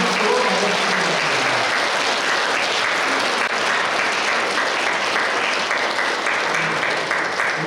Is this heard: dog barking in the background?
no